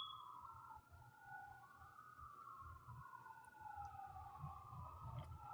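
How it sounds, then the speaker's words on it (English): Faint wailing sirens rise and fall in the distance, overlapping one another over a low background rumble. "I'm hearing sirens."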